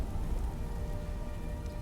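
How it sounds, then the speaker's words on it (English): Steady heavy rain in the fantasy game Skyrim, a dense continuous patter and hiss of drops on surfaces with no talking, holding even throughout. "It's probably pouring rain out there"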